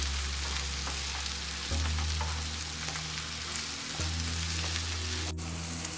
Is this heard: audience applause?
no